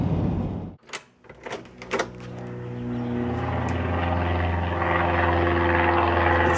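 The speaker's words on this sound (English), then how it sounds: "As soon as one plane is kind of out of your hearing range, the next one is taking off." A few knocks and clatters come first, then a loud, steady roar from an airplane taking off overhead. The roar swells and holds to the end.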